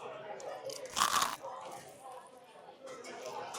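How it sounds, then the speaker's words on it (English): A sharp crunch of biting into crispy fried chicken at a luxury fried chicken restaurant, one loud bite in the middle followed by softer chewing crackles, close up, with voices talking around it. "I don't know if you can hear that crunch, but they really know how to fry their chicken here."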